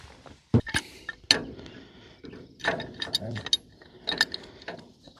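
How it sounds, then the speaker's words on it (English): A small wrench ratchets as it unscrews the cap on the oil reservoir of a MacDon haybine, giving several close, sharp clicking bursts with mechanical clinks between them. "I need this little wrench here to unscrew the cap on top of the oil reservoir"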